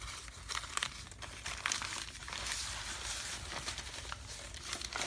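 Sheets of paper for a handmade journal are folded and crumpled close by, giving a steady, near crinkling and rustling with sharper crunches scattered throughout and no voices.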